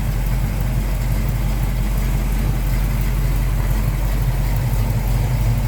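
A 1976 Pontiac Trans Am with a 400 V8 and automatic transmission idles smoothly and steadily up close, a deep, even rumble with no revving and no voices.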